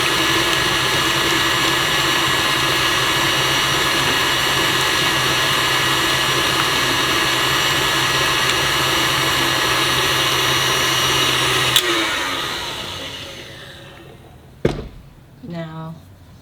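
An electric mixer whirs steadily and loudly through chocolate chip cookie batter for about twelve seconds and then stops, after which a voice speaks.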